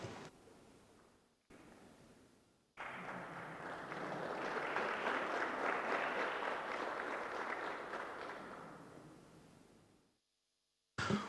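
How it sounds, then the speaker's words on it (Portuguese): Audience at a parliamentary alliance presentation session applauding, a steady wash of many hands clapping that swells and holds for several seconds before fading to silence, heard at moderate distance in a hall. "muito obrigado pelas vossas simpáticas palmas e sorrisos"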